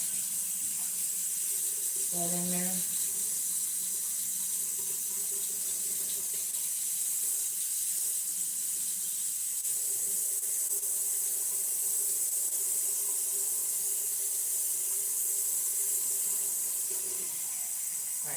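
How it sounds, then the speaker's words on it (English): Tap water runs steadily into a sink while warming up for pizza dough, a constant hissing stream throughout, with a brief spoken remark early on. "1 1/3 warm water. I'm gonna let this water heat up."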